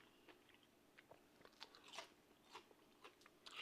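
Someone bites into and chews crispy air-fried keto pickles dipped in ranch, producing a quiet series of close, sharp crunches spaced roughly half a second apart, with no talking.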